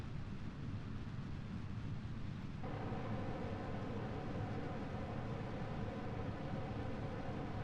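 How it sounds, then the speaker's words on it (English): RCS thrusters on a rocket in Kerbal Space Program hiss as a steady, dense roar of broadband noise that thickens partway through and holds loud to the end, with no voices. "That noise you're hearing is the RCS going crazy."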